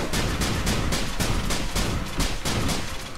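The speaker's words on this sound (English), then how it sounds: "I will launch a grenade" Rapid repeating gunfire bursts in Risk of Rain, a steady dense rattle of shots and explosive pops from a launched grenade attack, loud and continuous without talk.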